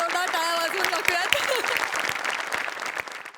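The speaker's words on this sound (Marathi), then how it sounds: "समोर बसलेल्या प्रेक्षकांसाठी पण एकदा जोरदार टाळ्या वाजवून टाकूयात." An audience applauds at a staged comedy show, a dense loud clapping that fills the whole stretch while a presenter's voice carries over it at the start.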